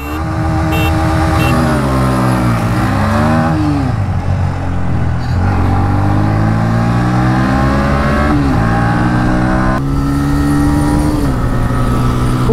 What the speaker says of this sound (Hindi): TVS रेडर भाई देखो कितनी इजीली, भाई देखो उसमें लॉन्च भी परफेक्ट हुई थी, ये लॉन्च बेकार हुई थी, फिर भी देखो आराम से हरा रही है भाई NS को